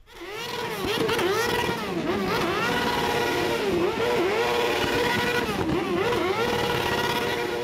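A large group of motorcycles rides together in Zeeland, with a loud, continuous engine roar and rising and falling revs as the bikes pass, and no talking.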